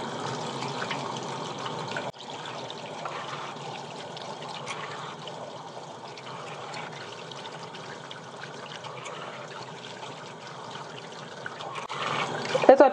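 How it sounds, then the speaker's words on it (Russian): Tap water runs steadily as baby-shampoo foam is rinsed out of makeup brushes, a continuous close splashing flow that dips briefly and swells with louder splashes near the end. "Теперь смываю пену и промываю все кисти и снова их откладываю."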